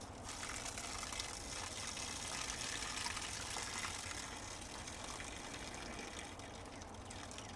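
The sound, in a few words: water poured off black walnuts in a container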